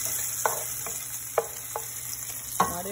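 Sausages fry in a pan under a steady close sizzle, broken by a few sharp clacks from stirring or turning them. No one speaks.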